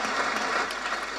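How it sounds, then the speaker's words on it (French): Dense applause from an audience at a lecture by the Reverend Jesse Jackson, a steady wash of many hands clapping at once, fairly loud and continuous through the short moment with no voices on top. "Alors on peut applaudir maintenant."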